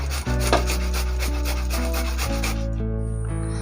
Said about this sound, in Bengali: এবার সবগুলো কচুই মা এভাবে কুড়িয়ে নেবে